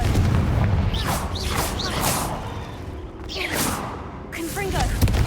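Confringo blasting spells cast in Hogwarts Legacy, heard as loud fiery explosions with whooshing bursts that swell and fade in waves amid game sound and chatter.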